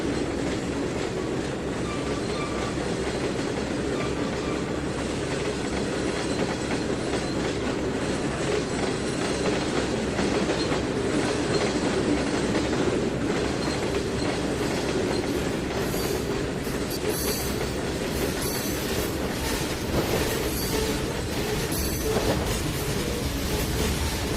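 A locomotive-hauled train in the Trainz 2019 simulator rolls steadily along the rails, with continuous rumbling, rhythmic clickety-clack and occasional wheel squeal, loud and unbroken with no talk.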